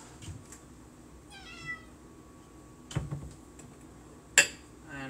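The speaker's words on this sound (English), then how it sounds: "that is UB meowing in the background" A pet cat meows in the background of a home kitchen during cooking, one trilling meow standing out alongside occasional clinks of dishes and utensils.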